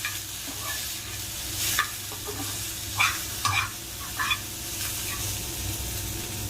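Chillies stirred and fried in a pan for thotakura pachadi, a steady sizzling hiss broken by several sharp scraping stirs of a spoon against the pan, close up with no talking.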